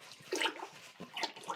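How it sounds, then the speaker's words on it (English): Liquid pottery glaze poured into a clay piece and swirled around the inside: two short sloshing, splashing bursts, close and fairly quiet. "I'm basically just going to pour in some glaze"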